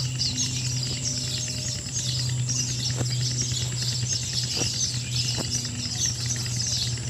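A dense chorus of baya weaver birds chatters and chirps continuously in the distance, over a steady low hum and a few sharp clicks.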